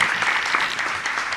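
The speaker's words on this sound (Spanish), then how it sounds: "Invito a la diputada nacional Mónica Macha, si pueden aplaudir," An audience applauds steadily at a public presentation of a bill in Buenos Aires, a dense, even clatter of many hands heard alone, without talk.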